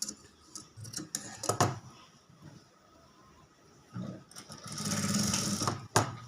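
A sewing machine stitches the neck of a princess-cut blouse in short, close bursts of rapid clatter, separated by quiet pauses and small handling clicks.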